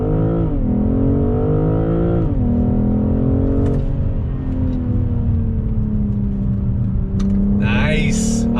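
A 2021 BMW M440i coupe engine revs hard and climbs in pitch, briefly dips at a quick gear shift, then keeps pulling loudly and steadily.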